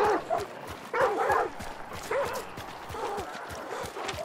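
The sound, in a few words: dogs barking in Hunt: Showdown video game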